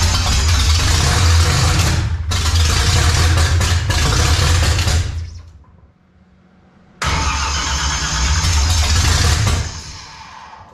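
A 1955 Chevy engine cranks and fires, running loud and rough for a few seconds, cutting out briefly, then catching again and running unevenly, close up with no talk.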